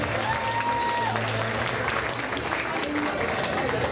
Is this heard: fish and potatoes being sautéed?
no